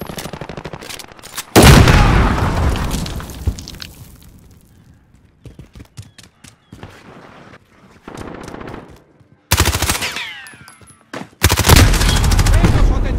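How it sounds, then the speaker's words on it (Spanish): Gunfire in Call of Duty: Modern Warfare, with loud bursts of rapid automatic fire, single sharp shots and heavy blasts coming in separate volleys with brief lulls between them. "¡Me están acribillando!"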